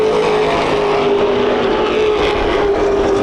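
Late model race cars run at Irwindale Speedway in a continuous loud engine roar with a sustained whining tone, dense and unbroken, no voices heard.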